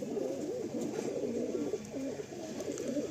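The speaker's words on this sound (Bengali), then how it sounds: "দেখুন আপনাদেরকে আমরা রিলিজ করে দেখাচ্ছি পায়রাটাকে" Released Malwai pigeons, a male and a female, give soft, continuous rolling coos at a quiet, close level, without voices.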